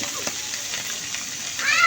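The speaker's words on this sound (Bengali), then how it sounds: "যে মাছ ভাজা হোক।" Puti fish fry in a pan while being cooked with radish. A close, continuous sizzle with a faint watery hiss runs through the whole stretch and grows slightly louder at the end.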